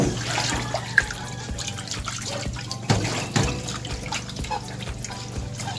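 Tap water runs steadily over plates being rinsed at a home sink, a continuous close splashing wash with a few small clinks and drips, no talk.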